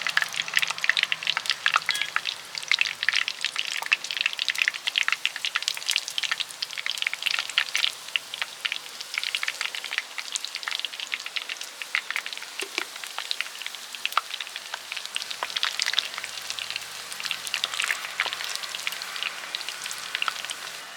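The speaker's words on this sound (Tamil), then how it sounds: "ரெண்டு துண்டுக்குள்ள ஒன்று ஒன்றா பொரிச்சு எடுத்துக்கலாம்." Bread slices deep-frying in hot oil for bread halwa crackle and spit in a dense, continuous sizzle with rapid popping bubbles, close and steady throughout, with no talking.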